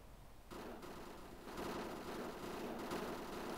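Sustained automatic fire from an M4 rifle fitted with a red dot sight in Call of Duty: Modern Warfare 3, rapid continuous bursts heard fairly faint and even, with no talking.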